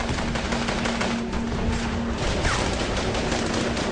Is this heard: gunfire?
yes